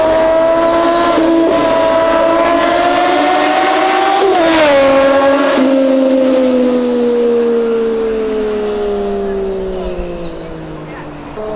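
A car accelerates hard while driving against traffic during a street race in São Paulo, a loud engine note climbing in pitch, peaking, then falling away, with voices over it.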